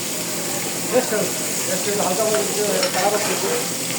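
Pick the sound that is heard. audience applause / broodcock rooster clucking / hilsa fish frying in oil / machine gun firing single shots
hilsa fish frying in oil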